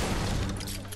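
A burst of assault rifle gunfire in a video game, a loud dense rattle of rapid shots close up, fading slightly at the end, with no talking.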